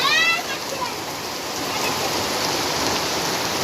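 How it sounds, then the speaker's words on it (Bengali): Heavy rain pours steadily, a dense, even roar of falling water that lasts the whole stretch with no letup. A brief tonal whine is heard at the very start. "বৃষ্টি আর কমে না।"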